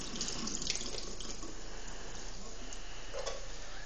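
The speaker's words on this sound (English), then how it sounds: "You're going to drain out some of the juice." Juice from an opened pull-tab can of cut green beans pours out in a steady, close trickle that runs without pause, much like water running from a tap.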